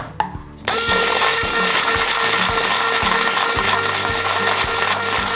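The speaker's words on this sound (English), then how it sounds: "I'm just going to blend it with a hand blender." A hand blender starts after a brief clatter and then runs at a loud, steady whine while blending a cooked mixture for a Halloween bake. Rhythmic knocks sound as the blade hits the container, and no one speaks.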